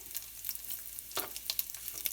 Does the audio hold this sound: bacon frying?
yes